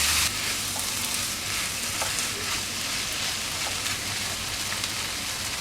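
Capsicum and potato pieces sizzle steadily in a hot pan while being stirred, a close, continuous frying crackle with faint scraping ticks throughout.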